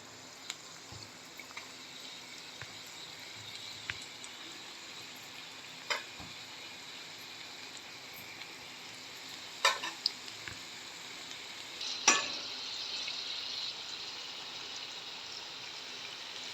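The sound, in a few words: crab-style onion bhaji (khekda bhaji) frying in oil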